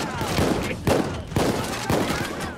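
Bursts of gunfire from the Payday 2 heist game, panic room map on Overkill difficulty, crack out in four loud, evenly spaced volleys over a dense layer of background game noise.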